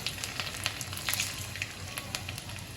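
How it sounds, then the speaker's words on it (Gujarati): Cumin, mustard seeds, asafoetida and garlic cloves sizzling in hot oil for a drumstick gravy curry, a dense close crackle and hiss with small pops throughout, no voices. "રામે બનાવી જીરું નાખી, રાઈ નાખી, હિંગ નાખી, લસણની કળી,"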